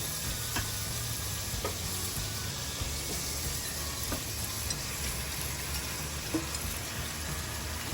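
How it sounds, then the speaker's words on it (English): Pork belly sizzles and fries steadily in a pot for Filipino sinigang, a continuous close crackle with a few sharper pops and light stirring scrapes, no talking. "I'm gonna have to add the pork now."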